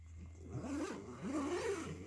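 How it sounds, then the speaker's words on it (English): Zipper on a rifle case slides open in two smooth, continuous pulls, close and fairly quiet, with a soft steady hum underneath. "Look at that, nice smooth zipper."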